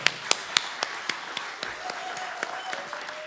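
Sparse rhythmic hand claps at the San Diego Music Hall of Fame induction ceremony, a few sharp claps spaced about a quarter second apart that thin out and grow quieter, with a faint steady tone and murmuring voices behind.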